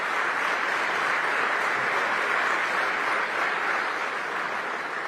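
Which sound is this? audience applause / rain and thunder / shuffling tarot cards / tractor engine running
audience applause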